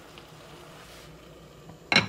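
Lid set down on a clay pot of Cantonese rice cooking with an egg, a single short clack at the very end after a quiet stretch of faint kitchen background.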